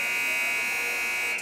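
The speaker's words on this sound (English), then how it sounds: "there's your buzzer" A loud, steady electronic buzzer sounds in a school field house at the end of a quarter of a girls' high school basketball game, one sustained tone that cuts off sharply at the end.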